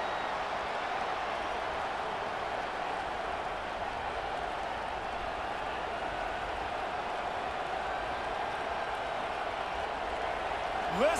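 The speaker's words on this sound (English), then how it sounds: "Listen to this crowd just shaking the girders of this place, trying to help their defense." Stadium crowd roar from a high school football game between DeSoto and North Shore in the College Football 25 video game, a steady dense cheering wash held throughout the clip with no speech over it.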